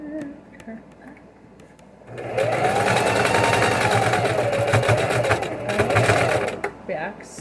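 A sewing machine stitches in a fast, even mechanical whir that starts after a short pause and runs for several seconds, fairly close, while a voice talks over and around it.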